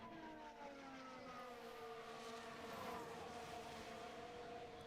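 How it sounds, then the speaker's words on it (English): A plane flies over the Qatar Grand Prix circuit, its engine a steady distant drone with shifting tones throughout, and no voices are heard. "Qatar are flying a plane over the circuit."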